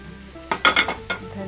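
Roasted eggplant bharta mixed with coriander is stirred in a hot pan, a brief burst of a few quick scraping, sizzling strokes up close, then fading to quiet.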